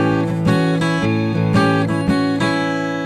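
An acoustic blues guitar picks a melody over a held chord, with plucked notes ringing out one after another, close and clear.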